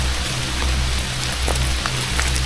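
Heavy rain falls in a steady, dense patter outdoors on a rocky shore, with a few louder drops and splashes standing out against the constant hiss; no one speaks.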